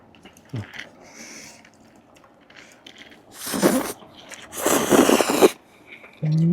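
Shanghai-noodle pad thai with fresh shrimp being slurped up close, two loud, wet sucking bursts standing out over quiet chewing and faint background noise.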